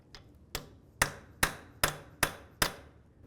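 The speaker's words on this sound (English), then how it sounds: "Now let's use a hammer and punch." Hammer and punch striking a front axle to free it from the wheel bearing on a 2000-2005 Buick LeSabre: seven sharp metallic blows in a steady rhythm, each ringing briefly, close up with no voices.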